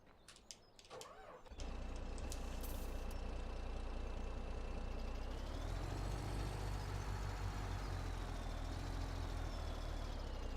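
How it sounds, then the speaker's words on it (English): A truck in Farming Simulator 17 revs up from a faint start into a loud, steady engine drone, pitch rising and falling as it moves, with an air-brake-like hiss early on. "I may want to move the truck up just a little bit more"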